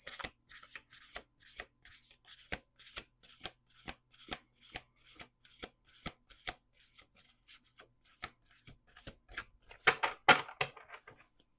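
A deck of The Price of Love Oracle cards is shuffled by hand, giving a long run of soft, evenly spaced slaps up close, ending in a brighter, busier flurry of cards.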